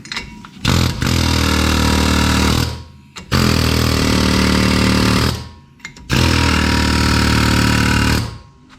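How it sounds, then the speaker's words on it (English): Three long bursts of loud pneumatic air hammer rattling against a brake rotor on an AWD Infiniti G35, each a couple of seconds, separated by brief pauses, close up with a harsh metallic chatter. "so we're gonna try to knock this rotor loose with this air hammer"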